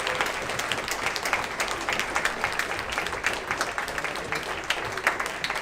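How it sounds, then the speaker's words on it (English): Steady applause from a festival audience at the NA Brno dobrý 2022 event fills the whole stretch, dense and continuous with no pauses. "Another round of applause for them as well,"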